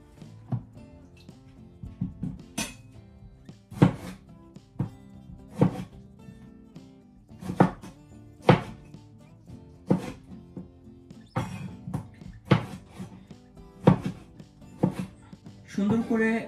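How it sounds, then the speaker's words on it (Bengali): Tomatoes chopped with a knife on a board, a steady run of crisp, close thunks, sometimes in quick clusters, with a voice talking at times in between. "সুন্দর করে টমেটোগুলো আমি কেটে নিলাম"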